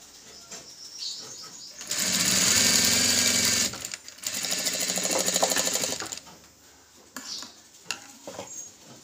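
Sewing machine stitching a piping piece during a tailoring lesson, two sustained loud runs of rapid rhythmic stitching separated by a short pause, with faint clicks around them.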